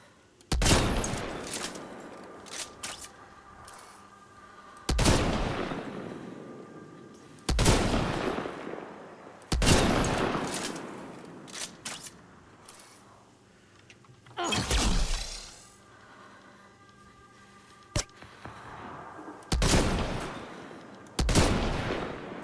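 Bursts of game gunfire from Mass Effect Andromeda crack out in about eight separate volleys, each a loud sharp blast that rings and decays, spaced a few seconds apart with quieter gaps between them.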